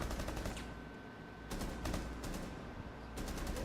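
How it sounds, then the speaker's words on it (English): Automatic gunfire from Rainbow Six Siege, a few loud bursts of rapid shots separated by short pauses over a steady game background, with no talking. "What is he shooting at?"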